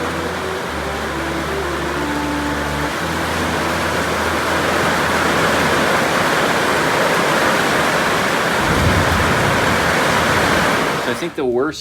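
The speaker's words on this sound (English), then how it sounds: "I think the worst of the rain is over. Man, it was pouring." Heavy rain pouring outdoors by a pub's front patio, a dense, loud, steady roar of hiss lasting throughout, with a low hum early on and a brief disturbance at the very end.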